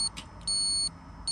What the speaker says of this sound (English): when it's finished, it will stop beeping